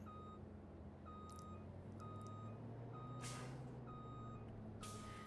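A Peterbilt truck reversing in Farming Simulator 25, with a steady run of evenly spaced backup beeps over a low engine rumble and two short hissing air-brake bursts.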